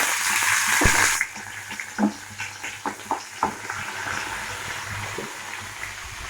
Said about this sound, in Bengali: এটাতে দেবো কটা কাঁচা লঙ্কা কুচিয়ে রেখেছিলাম।